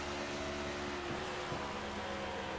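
A race car engine in the iRacing simulator drops through the gears, its steady drone dipping twice in pitch as it downshifts. The sound is quiet and continuous, with no talk.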